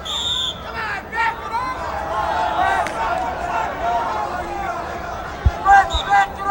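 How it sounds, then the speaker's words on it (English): A gymnasium crowd at a 1986 New York state high school wrestling final, 98-pound class, yells and jeers at the wrestlers for stalling, a steady roar of overlapping shouting voices that grows louder near the end. "The crowd is continuing to yell he's stalling"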